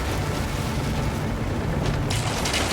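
Ship cannons firing during a sea battle in the video game Assassin's Creed Origins: a loud, dense, continuous roar of overlapping booms and rumbling that sustains steadily throughout.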